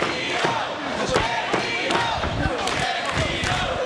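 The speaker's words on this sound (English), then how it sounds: "Big Candido chant for the crowd" A large wrestling crowd chants loudly in a rhythmic, repeated pattern at a battle royal, voices blending into a roaring, echoing mass with occasional thuds underneath.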